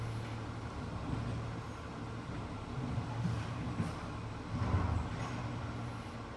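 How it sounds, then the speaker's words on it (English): A trash truck idles behind a fence, giving a steady low engine rumble that runs through the whole stretch at moderate distance, swelling slightly near the end, with no talking. "the trash truck is behind the fence over there where I'm doing my filming"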